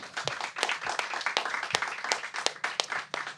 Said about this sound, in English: everybody please give a round of applause for Ben Purkert.